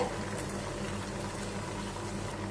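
Ghevar frying in a pan gives a steady, dense bubbling sizzle that stays even and continuous throughout, close and moderately loud, with no one talking.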